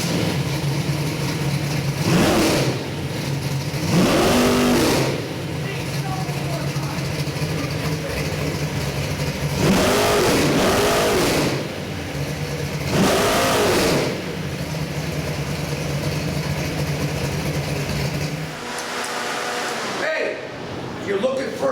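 An Oldsmobile crate engine running on a test setup, idling with a steady rumble and revved hard several times in rhythmic bursts, loud and close, then shutting off at the end.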